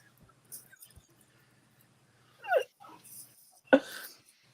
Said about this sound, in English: My dog just started whining outside of my door.